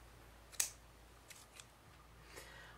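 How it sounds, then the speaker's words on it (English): A single crisp snip of scissors cutting yarn during crochet, short and close, followed by a few faint soft handling sounds in a quiet room. "cut off a little bit extra yarn just in case I need it"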